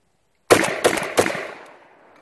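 Three loud shotgun blasts from a Weatherby semi-automatic shotgun, fired in quick even succession about a third of a second apart, each sharp crack trailing into a long fading echo.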